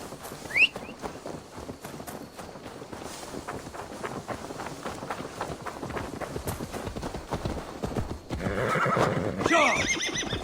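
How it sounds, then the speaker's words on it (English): In Assassin's Creed Valhalla, a horse gives a sharp whinny near the start, then steady clip-clop of hooves and faint wind carry on, and the hooves grow busier toward the end. "Now to deliver Magni his horse"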